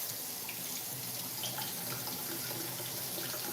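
A tap runs steadily as something is rinsed at a kitchen sink while a vegan vegetable meal is prepared, giving a constant close hiss of flowing water with no pauses.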